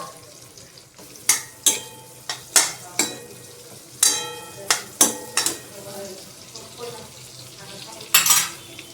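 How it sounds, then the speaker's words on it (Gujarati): Onions sautéing in oil in a pan for a Punjabi kaju curry, with a low sizzle under a series of sharp, irregular spatula scrapes and clinks against the pan. "ફરી આપણે 2 ચમચી તેલ લઈ અને તેમાં ડુંગળી સાતળશું"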